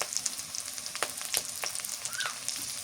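Garlic paste dropped into hot oil in a village kitchen while a hilsa fish curry is being cooked. A faint, close sizzle crackles with sharp pops and spatters, and no one speaks.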